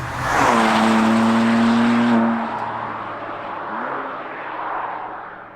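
BMW M2 Competition with a front strut brace driving hard through corners, engine note rising loudly then easing off as it settles into a steadier, quieter drone; no talk.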